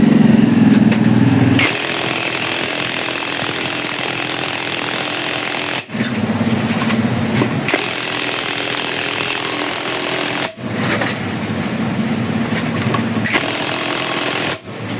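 Impact wrench on a Yamaha Mio Soul i 125 scooter nut, hammering in loud continuous bursts with brief pauses between them, close up with no talk.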